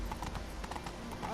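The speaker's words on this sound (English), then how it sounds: "Whoa there, Roach" Horse hooves clip-clopping at an even walking pace in The Witcher 3, faint and set against game ambience.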